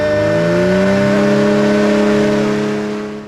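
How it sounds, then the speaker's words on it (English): A vehicle engine in Skardu, Pakistan revs loudly up close with a wavering, sliding pitch, then fades away at the end. "All right, start your engine."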